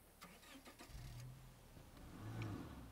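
A car engine starts in the zombie survival game State of Decay 2: a faint low cranking turn-over that catches and settles into a rough idle, with small clicks before it, quiet and without talking.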